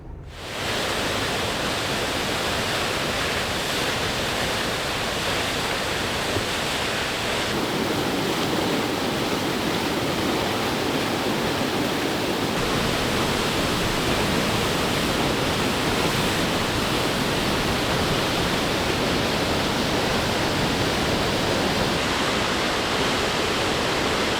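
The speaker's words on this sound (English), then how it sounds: "2 waterfalls on the same trail." Loud, steady rushing roar of a nearby waterfall on an Oregon trail, Koosah or Sahalie Falls, a constant broadband wash of falling water throughout.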